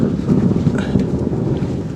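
Low, deep rumble of thunder rolling steadily in the distance, mixed with wind and rain noise, no voices.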